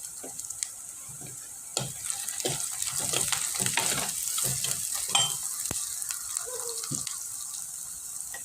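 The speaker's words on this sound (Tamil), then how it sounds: "நல்லா பொன்னிறமாக வறுத்துக்கலாம் பச்சை மிளகா போட்டுக்கலாம்" Onions and green chillies frying in a pan, a continuous soft sizzle with scattered clicks and taps of a spoon against the pan, fairly close and steady.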